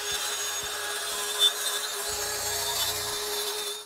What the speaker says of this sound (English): Then with my track saw lined up with that line, I can cut this plywood down to 80 inches exactly.